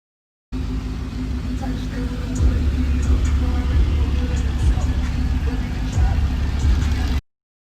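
A Dodge Challenger Hellcat on 34-inch wheels drives with a low, steady engine rumble and road noise from inside the car, loud and continuous throughout.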